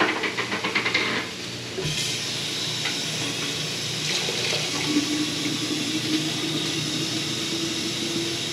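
Water runs steadily in a continuous rushing stream, splashing close by and filling a pot for several seconds after a brief clatter.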